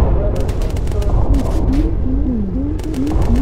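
Rapid defensive gunfire from bomber turrets in Bomber Crew, short clustered bursts of rattling shots over a loud droning engine roar, with voices speaking across it.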